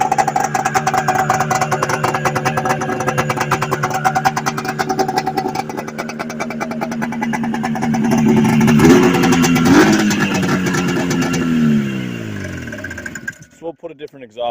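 A Yamaha Excel III 340cc snowmobile engine with a replacement exhaust runs loud and raspy, its pitch swelling briefly near the end before it shuts off abruptly; someone talks over it at the start.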